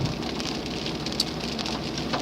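Steady rain pours down on a flooded yard, a dense, even hiss of drops on wet ground and puddled water in front of porch steps, continuous and close with occasional louder splatters.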